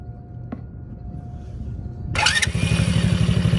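A Chinese ATV engine sputters weakly, then picks up after an idle screw adjustment and settles into a close, steady, pulsing idle.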